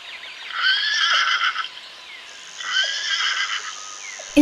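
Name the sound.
pony neighing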